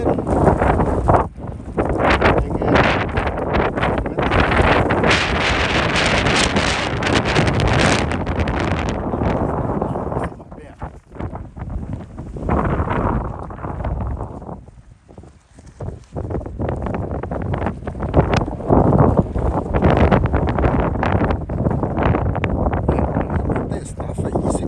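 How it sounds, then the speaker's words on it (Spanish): Blizzard wind roaring across a Boston bay during a winter storm, loud gusty buffeting on the microphone that eases briefly midway and then surges back, with a person talking under the wind. "Hay momentos que el viento deja de soplar y es cuando se tiene una mejor visibilidad"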